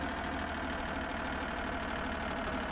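A tractor engine idling in an Indian tractor driving simulator game, a steady, rhythmic low chug with a constant broadband rumble, moderately quiet and without talk.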